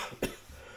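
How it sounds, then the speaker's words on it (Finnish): A single sharp cough, close and fairly loud, stands out briefly against a quiet room background with no talking. "Köhän jatkuu."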